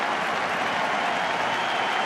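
A baseball stadium crowd at World Series Game 2 applauds pitcher John Lackey, a dense, steady wash of clapping and cheering that fills the whole moment.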